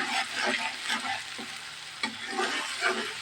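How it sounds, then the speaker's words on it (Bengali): Spices sizzle in hot oil for a chicken and potato curry, a close, continuous crackling fry with soft scraping stirs breaking through now and then. "এখানে মশলাটা আমি ভাজা ভাজা করবো সব মশলাগুলো একটু ভাজবো আমি"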